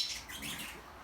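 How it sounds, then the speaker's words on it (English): Black-cheeked African lovebirds give a quick burst of high, thin chirps in an indoor bird room, a brief and fairly faint twittering with no talking. "these are our black cheek African lovebirds"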